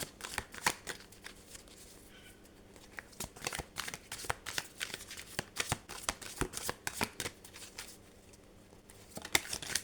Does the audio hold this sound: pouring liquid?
no